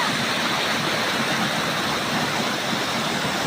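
Spring water gushes strongly up from underground, a loud, steady, dense rush of broadband water noise that holds constant throughout with no pauses, close and unbroken, with no voices over it.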